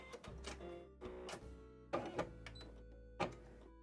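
An embroidery machine runs its first stitching pass, a steady mechanical chugging with repeated clattering bursts, close and moderately loud, with no talk over it.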